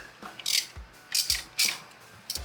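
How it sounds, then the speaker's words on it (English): A small adjustable wrench works at a nut on a motorcycle starter, producing four quick, close metallic ratcheting clicks spaced about half a second apart, fairly quiet with no talking. "We've got this little adjustable, and we're going to try and get in there and see if we can get the nut off it."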